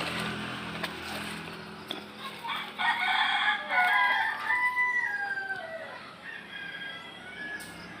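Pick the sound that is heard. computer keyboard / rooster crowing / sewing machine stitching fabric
rooster crowing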